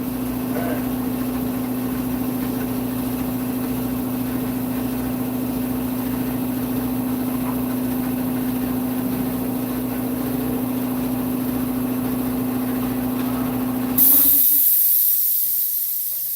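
Steady mechanical drone from a 5.5 horsepower air compressor running in a garage, constant and fairly loud, with a hissing burst of air near the end.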